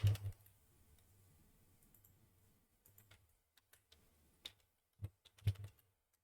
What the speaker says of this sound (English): press Ctrl plus F for find and type in sprint